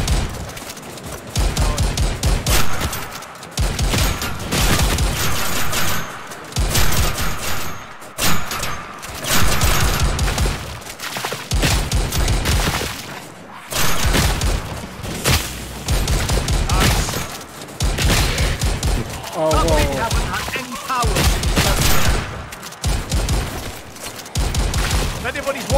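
Rapid gunfire in a co-op VR zombies game set in the Rotten Apple museum map, bursts of shots repeating in quick clusters with short gaps, loud and close, while players shout over the shooting.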